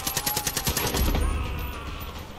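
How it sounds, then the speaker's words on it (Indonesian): A grenade launcher fires in the video game Far Cry 5: a rapid, even rattle of shots, then a deep, heavy boom that rumbles and fades. The shots are loud and continuous, and no one speaks. "Tiba-tiba ada yang namanya granat launcher ya."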